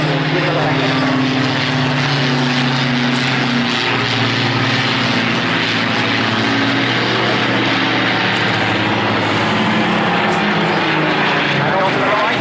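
An Avro Lancaster bomber drones overhead at an airshow, its propeller engines giving a steady, loud, sustained roar that swells and shifts slightly while a commentator talks over it.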